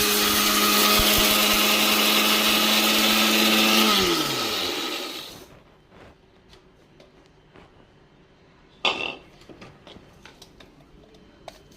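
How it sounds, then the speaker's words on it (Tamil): A mixer grinder whirs loudly as it grinds moong dal, then winds down and stops after about four seconds. A few clunks and rattles follow in the quiet. "பாசிப்பருப்பை முதல் மிக்சியில் ஒரு நுணுக்கிக்கிடுவோம்."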